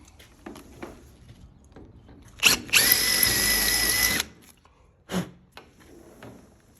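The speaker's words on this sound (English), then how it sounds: "you take your drill again" A power drill reams out a hole while a door closer and latch are installed on a door: a short tap, then a steady high whirring burst of about two seconds, followed by a brief second buzz and light handling knocks.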